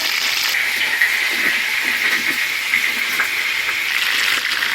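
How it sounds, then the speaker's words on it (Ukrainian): Red wine pours into a pot of coq au vin in a steady, close gushing stream that runs unbroken for about five seconds. "і будемо заливати червоним вином."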